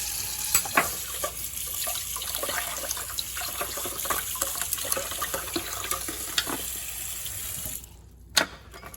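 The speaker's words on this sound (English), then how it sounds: "I always rinse the meat with cold water" Tap water runs steadily into a sink as beef is rinsed under cold water, with soft splashing and handling noises, then stops near the end, followed by one sharp knock.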